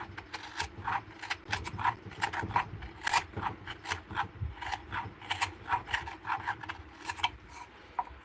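Hand carving and smoothing a wooden bowl with very wild grain, a run of quick rasping, scraping strokes in an uneven rhythm, close and fairly quiet.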